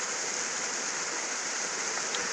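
Water drains out of a canal lock chamber holding a narrowboat, a continuous loud rushing roar like a weir, close and unbroken with no talk.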